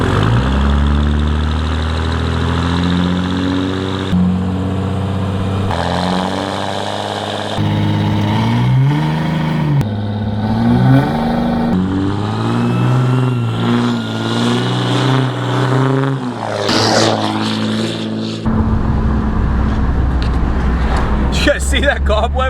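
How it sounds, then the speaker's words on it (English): A straight-piped Cummins diesel truck with a 5-inch exhaust and no muffler drives along. Its loud, deep engine note rises and falls through repeated revs and gear changes, with people talking over it. "this is the 5-inch, no muffler, straight pipe all the way out"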